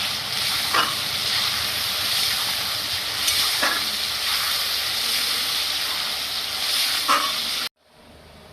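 Garlic, ginger, green chili and tomato paste fry with browned onions for a chicken curry, giving a steady, close hiss of sizzling oil with a few soft stirring scrapes, then cutting off abruptly.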